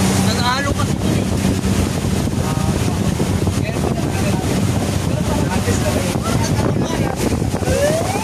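Boats on open water at Batangas Port, with a steady loud rush of wind and engine noise and waves slapping, while voices talk faintly in the background.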